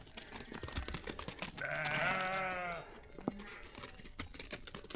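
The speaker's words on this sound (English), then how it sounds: "Gotta wait for the sheep to pass." A passing flock of sheep on a hiking trail in the French Alps, one giving a loud wavering bleat nearby while hooves clatter and shuffle on the path.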